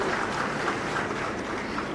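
Steady applause from a crowd at a ceremony honouring a 104-hour rescue operation, dense and continuous clapping at a constant level with no voices on top.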